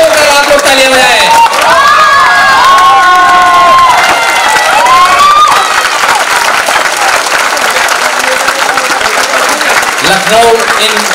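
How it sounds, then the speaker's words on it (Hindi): Large audience at a Lucknow comedy drama record event gives sustained loud applause, thick clapping mixed with cheers and whistling shouts that continue steadily for over ten seconds. "एक बार खड़े होकर आप लोग तालियां बजाएं"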